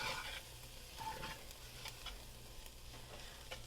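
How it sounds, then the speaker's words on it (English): A spoon stirs seasoning with a garlic, salt and pepper blend in a pan, giving soft scraping strokes and a quiet sizzle at close range. "Let's stir that around."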